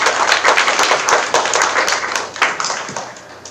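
A small audience at a startup demo day applauds a finished pitch, with close, sharp individual claps in a loose, uneven round that thins toward the end.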